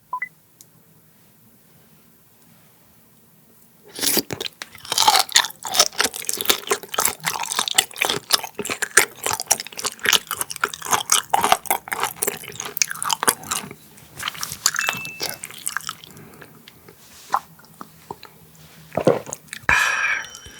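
Raw butterfish sashimi, cut thick with its bones left in, chewed close to the mic: after a quiet start come wet, crunchy bites and steady mastication with sharp bony cracks, loud and continuous, with no talk over them.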